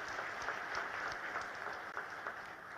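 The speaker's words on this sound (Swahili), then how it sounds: "naomba tupige makofi" An audience at a presidential five-star hotel launch event in Arusha claps steadily, a dense, sustained round of applause from a large crowd heard at a moderate distance with no talk over it.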